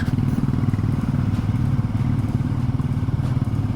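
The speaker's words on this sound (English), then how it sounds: "That's a custom exhaust on a bike." A loud, steady motorcycle engine with a custom exhaust idles with a throaty, pulsing burble, close by and running continuously with no talk, on a road in Shimla, India.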